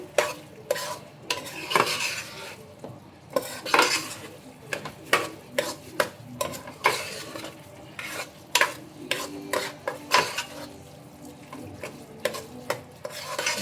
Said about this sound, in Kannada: ಅಕ್ಕಿಗೆ ಒಂದ್ಸಲ ಚೆನ್ನಾಗಿ ಮಿಕ್ಸ್ ಮಾಡಿ